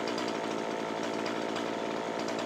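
A chainsaw cuts out small trees at the edge of a swamp, its engine droning loud and continuous throughout, with no voices.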